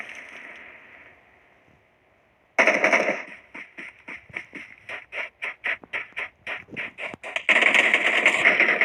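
Rapid bursts of automatic gunfire from the video game PUBG Mobile crackle in a fast rhythmic string after a short quiet gap, then give way to a dense wash of game noise.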